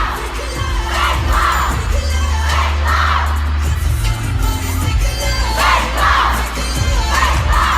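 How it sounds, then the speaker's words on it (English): Fans at a K-pop concert yell fan chants in unison, a dense, loud crowd roar with rhythmic bursts of shouting rising and falling every second or so over a booming low backing. "they instead have fan chants, which is basically them yelling out the hit points in the song"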